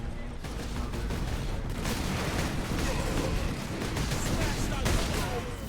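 Rapid gunfire crackles almost without pause in a Warhammer 40k Space Marine battle, loud and dense bursts of shots layered with impacts that continue throughout.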